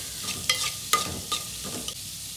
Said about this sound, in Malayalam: ഓയിൽ ഒന്ന് ചൂടായി വരുമ്പോഴത്തേക്ക് നമ്മൾ കട്ട് ചെയ്തെടുത്ത ഈ ഒരു ഉള്ളിയും പച്ചമുളകും ഒന്ന് ചിട്ട് കൊടുത്തിട്ട് ഒന്ന് വഴറ്റിയെടുക്കുക.